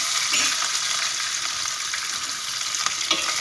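Shallots sautéing in hot oil in a pan for sambar, a steady bright close sizzle with light stirring scrapes, heard alone without talk.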